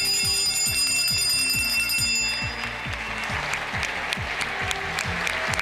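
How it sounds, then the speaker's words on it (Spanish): Applause from the Chilean constitutional convention fills the hall at the end of a vote, while a handbell rings in rapid, repeated strokes throughout, loud and close. "ustedes lo escuchan, aplausos, abrazos, celebraciones"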